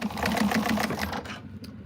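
Sewing machine stitching fabric for a bag, a short burst of rapid, close, rhythmic needle thumping that runs for about a second and then stops, with no talking.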